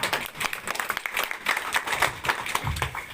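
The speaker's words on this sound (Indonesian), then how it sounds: "Tepuk tangan semuanya." A crowd at a business testimonial gathering claps briefly, a loose uneven patter of hands at moderate distance with no talk over it.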